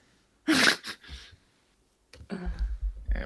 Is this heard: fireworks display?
no